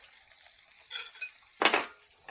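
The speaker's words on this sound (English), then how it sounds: "Okay, so time to flip the bacon over." Bacon frying in a pan, a steady sizzle with faint clinks of a utensil, then a loud burst of crackling near the end as the strips are flipped over.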